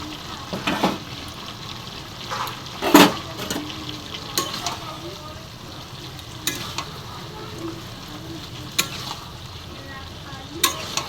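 Mixed vegetables tossed into boiled bottle gourd greens and stirred in a pan, giving a steady soft sizzle broken by several sharp scraping and clattering stirs, close and alone.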